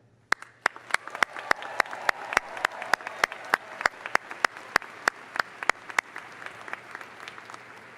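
Steady audience applause greets the Spring 2019 graduating class at a University of Wisconsin-Parkside afternoon commencement, a dense wash of clapping from a large crowd with a few sharp individual claps standing out, sustained at an even level throughout.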